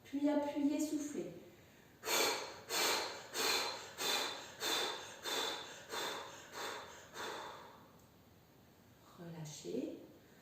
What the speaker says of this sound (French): Une profonde inspiration, puis appuyez, soufflez.